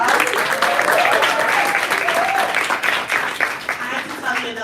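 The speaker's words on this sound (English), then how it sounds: "Give him another round of applause." Sustained audience applause fills an awards ceremony hall, dense clapping continuing steadily and loudly throughout, with a voice audible briefly underneath.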